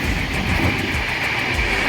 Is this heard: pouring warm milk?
no